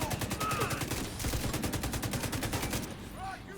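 Rapid, repeated gunfire from a shotgun in The Division 2, loud and close, with dense blasts crowding together throughout and a faint voice underneath.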